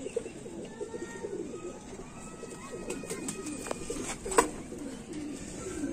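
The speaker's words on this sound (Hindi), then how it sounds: "इन कबूतरों की बड़ी अच्छी क्वालिटी मानी जाती है, बहुत ही आला दर्जे के।" Pigeons of a prized fancy breed coo in soft, repeated low calls over a steady background hum, joined by a few faint chirps and one brief sharper knock near the end.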